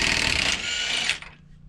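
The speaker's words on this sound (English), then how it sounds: "So much easier with an impact." An impact wrench with a 36mm socket spins a lower control arm bolt on a Chevy/GMC 2500/3500 truck, a loud buzzing whir for just over a second that then cuts off, close up with no talking.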